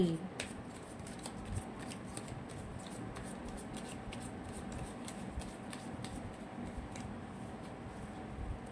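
Tarot cards being shuffled and drawn, a soft continuous riffling and rubbing of card stock with small flicks and taps, steady and close, under a faint background hiss.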